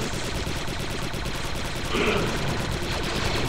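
Rapid blaster gunfire in the Star Wars Republic Commando video game, a dense continuous crackle of shots running through the whole stretch amid battle noise, slightly louder near the middle.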